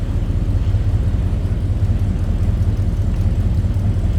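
A 1956 Cadillac Coupe DeVille engine idles close by, a deep, steady rumble with an even low throb and no voices.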